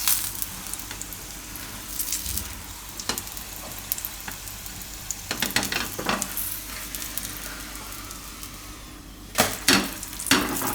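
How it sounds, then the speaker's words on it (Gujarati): Raja Rani paratha, a Gujarati layered flatbread, frying in plenty of hot oil gives a steady close sizzle, with a few sharp pops and scrapes from turning it near the end. "તેલમાં જ એકદમ પાકે એટલે એકદમ અસલ કડક થાય આ રીતનું"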